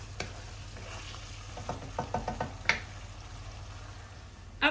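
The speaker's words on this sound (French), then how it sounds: "on mélange bien jusqu'à ce que la sauce est bien épaissie et qu'elle accroche donc dans ma poêle" A thick stuffing sauce for Moroccan seffa medfouna sizzles in a frying pan while being stirred, faint bubbling with a few soft scraping strokes and light clinks, fairly quiet.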